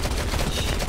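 Rapid gunfire in the mobile shooter Modern Combat 5 during battle royale mode comes as a dense, loud burst of automatic shots, with no talk over it.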